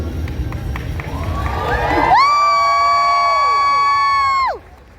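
An audience at a convention award show cheers and shouts as a noisy crowd, then one long, loud whooping tone rises above it and holds for about two seconds before cutting off.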